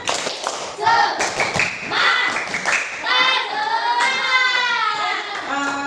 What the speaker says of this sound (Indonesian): supaya lebih semangat lagi, tepuk semangat